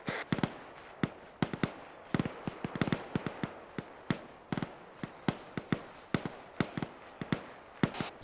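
Gunfire in the ARMA 3 military video game during a night recon mission, a steady series of sharp distant cracks and shots, irregularly spaced, fairly faint with no talk over them.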